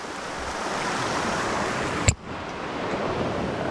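Ocean surf rolls steadily onto the beach at Playa Los Venados, Lo de Marcos, Nayarit, a continuous broadband wash with one brief sharp knock near the middle, no voices.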